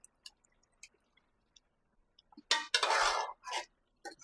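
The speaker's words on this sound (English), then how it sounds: "Now I'm going to add the butter beans." Butter beans tumble into a pot of Jamaican brown stew turkey neck with a few light clinks, then a loud burst of metal scraping and clattering against the pot, close and unaccompanied by talk.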